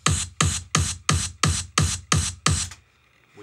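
Punchy electronic drum kit sample with a heavy low end, eight evenly spaced hits with bright attacks and short decays, loud and alone, followed by a faint tail.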